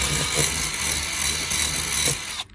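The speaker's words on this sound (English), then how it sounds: "stick a 1/2-inch drill bit, and stick it in the carpet" A power drill with a 1/2-inch bit whirs steadily up close for a couple of seconds, its pitch wavering slightly as it bores through car carpet, then stops.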